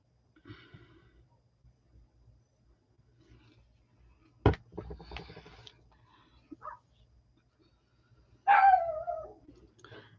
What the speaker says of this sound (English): Their dogs outside are barking, so of course Fox is going to bark.